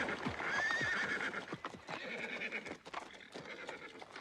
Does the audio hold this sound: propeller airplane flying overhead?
no